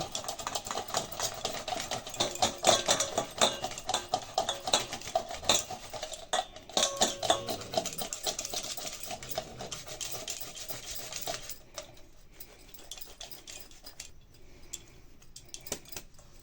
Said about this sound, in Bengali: এই যে গেটারের সাহায্যে আলুটা গ্রেট করে নেব